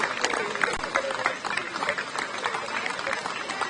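An indoor audience gives steady applause for a contestant at the Miss Principessa d'Europa beauty pageant finale in Cavarzere, dense rapid clapping with faint crowd murmur underneath.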